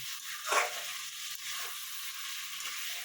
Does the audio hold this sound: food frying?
yes